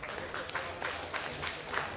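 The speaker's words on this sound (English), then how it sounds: "So, a round of applause to welcome our panel." Audience applause welcoming a British comics panel at a comics festival round table, a continuous wash of clapping from a crowd with rhythmic swells throughout.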